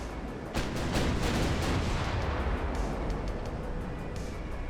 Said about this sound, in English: Getting full broadsides again.